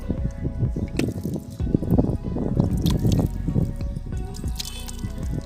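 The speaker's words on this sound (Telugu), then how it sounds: "సో ఇప్పుడైతే వాటర్ అయితే ఇస్తున్నా" Water poured onto soil in a terrace garden seed bed, a close, steady wet trickle with squishy splashing and dripping that continues throughout without speech.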